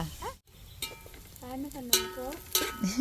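Biryani masala fries in a pan in a home kitchen, a soft sizzle and stirring under nearby voices, including a child's, that talk over it.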